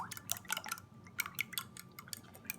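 A fork whisks cake batter in a bowl, with quick light clinks and wet tapping strokes against the side coming in uneven bursts, faint and close with no talk.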